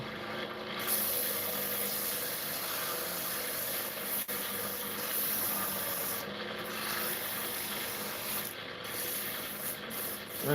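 Steady abrasive sanding of a wooden bowl, a continuous rasping rub with slight variations in pressure, close and fairly loud with no talking.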